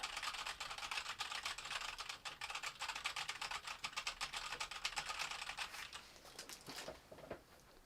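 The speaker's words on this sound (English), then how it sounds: "Now this is just going to be me banging on the keyboard." Rapid, continuous clatter of fingers on a computer keyboard, close and fairly quiet, keeping a busy uneven rhythm before tapering to a few final keystrokes.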